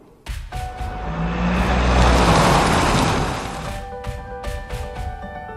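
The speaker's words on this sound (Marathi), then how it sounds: "डॉक्टर बाबासाहेब आंबेडकरांची मोटार भर वेगात चालली होती" A motor car runs at speed, its engine roar building loudly, then easing off as it slows and stops, with faint knocks near the end.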